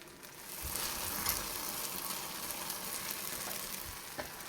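Garlic frying in a pan for a herb compound butter, a soft steady sizzle with occasional crackles and pops, close up and with no talking.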